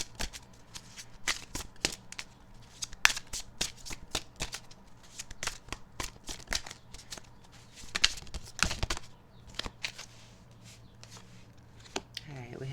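Tarot cards shuffled by hand before a draw, a close run of quick flicking riffles and slaps in irregular bursts, steady through most of the stretch.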